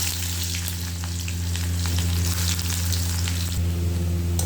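Cumin seeds and chopped onion fry in hot oil with a loud, even sizzle and crackle, close up and constant, with a steady low hum underneath and no talk.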